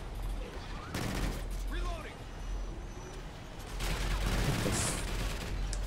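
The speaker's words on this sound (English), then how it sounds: "Shots fired." Gunfire in the co-op shooter game Extinction, scattered shots and bursts over a steady background hum, with louder firing near the end and voices talking over it.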